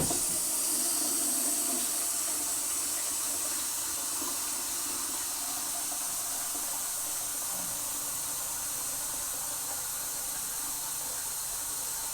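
Hot water runs steadily from a tap in a bathroom where a toilet is being unclogged, a continuous broadband hiss and splash that stays even and fairly loud for the whole stretch, with no voices.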